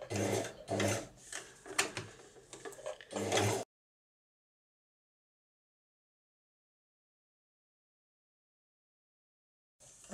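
Sewing machine stitching the curve of a bandana bib, heard as a short, close burst of rattling stitches that stops abruptly and gives way to silence.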